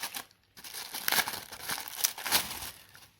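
Packaging of a boxed oracle card deck, L'Oracle des Reflets second edition, crinkles and tears close up in several bursts of rustling plastic and paper over about three seconds.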